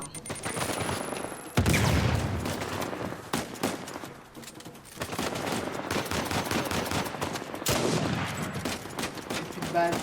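Gunfire from the video game Uncharted 4: dense bursts of shots and rapid fusillades, loud and continuous with a few sharper blasts, under game effects.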